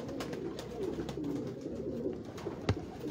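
Teddy pigeons on a Lahore rooftop coo in a steady, low murmuring chorus close by, with a few sharp clicks or flaps, including one louder knock near the end, and no talking.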